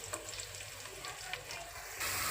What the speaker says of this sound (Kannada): ಎಣ್ಣೆ ಕಾದಿದ ಮೇಲೆ ಇದಕ್ಕೆ ಈರುಳ್ಳಿ ಹಾಕ್ಕೊಂಡು ಒಂದು ಸ್ವಲ್ಪ brown colour light brown colour ಬರೋವರೆಗೂ ಫ್ರೈ ಮಾಡ್ಕೊಳ್ಳೋಣ